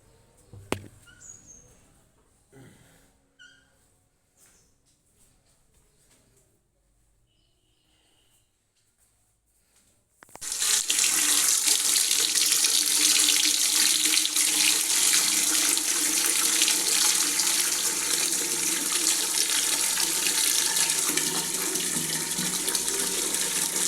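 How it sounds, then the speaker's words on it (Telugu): After ten seconds of quiet with faint clinks and bird chirps, a hot-water tap from a water heater turns on and water gushes steadily and loudly into a basin. "ఇక నేను నీళ్ళు పెట్టుకోవాలి, వేడి నీళ్ళు"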